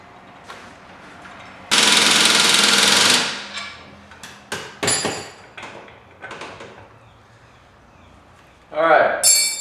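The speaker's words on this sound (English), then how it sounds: "tighten this bolt, then tighten the other one that's across from it" Bolts on a spindle lift kit for an EZGO TXT golf cart are driven tight with a power impact tool: one long loud burst, then several shorter rattling bursts and a final burst, close up, with someone talking between them.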